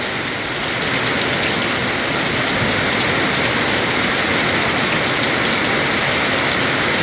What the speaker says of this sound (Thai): ยังลมทั้งฝนรอบนี้